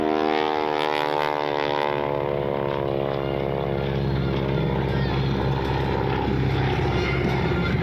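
A Super Stearman-type aerobatic airplane roars overhead at an air show, its propeller engine droning steadily loud with rising and falling harmonics throughout, crowd ambience beneath.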